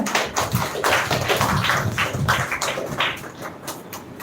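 An audience claps for a speaker called up to receive a medal at a women's education grand finale event, dense steady applause filling the hall for a few seconds before fading slightly.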